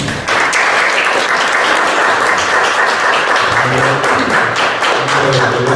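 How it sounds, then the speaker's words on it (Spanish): Sustained applause from a seminar audience for maestro Samuel, many hands clapping loudly and continuously, with faint voices murmuring underneath toward the end. "Yo les pido por favor le den un aplauso."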